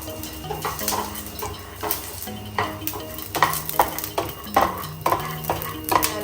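Peanut chutney ingredients, with chilies and fresh coconut, fry in a pan, giving a soft sizzle under repeated scraping and clinking strokes of a spoon stirring against the metal at an irregular rhythm.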